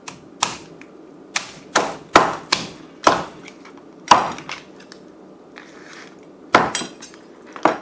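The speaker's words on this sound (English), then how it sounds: "We're going to cut the tail lengthwise." A knife chopping lengthwise through a lobster tail on a cutting board, about a dozen sharp, close knocks in an irregular rhythm with quiet gaps between them.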